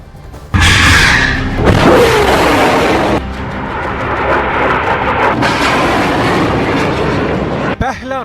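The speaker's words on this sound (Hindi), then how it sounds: "फिर फायर हुआ दूसरा रॉकेट, इसके बाद लॉन्च हुआ तीसरा रॉकेट।" Rockets fire in the Israel–Hamas conflict, with loud roaring launch blasts and whooshes that swell and sustain as one rocket follows another, followed by a brief closing rumble.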